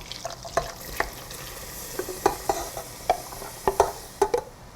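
Coarsely chopped onion fries in a pan with cardamom, a soft steady sizzle broken by a string of sharp scraping stirs and clacks of a spatula, close and without speech.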